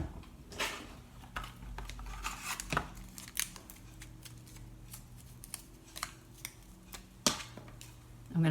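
Scissors snip paper for a handmade card in a series of sharp, close cuts with uneven gaps, set against light handling rustles and faint background hum.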